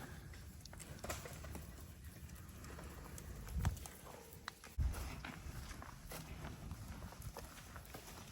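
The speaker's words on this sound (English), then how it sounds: "Donkeys." Donkeys walk on firm ground, their hooves making scattered clip-clop steps and soft scuffs at a slow, irregular pace, with a couple of louder thuds nearby over a quiet outdoor background.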